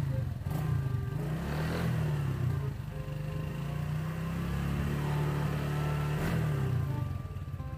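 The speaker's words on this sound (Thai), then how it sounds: "สุดท้ายก็สตาร์ทเครื่องเช็คความเรียบร้อยอีกครั้งนึง" A Honda PCX scooter engine idles steadily after greasing, a continuous close mechanical hum with a couple of small rises in revs, and a voice faintly audible over it.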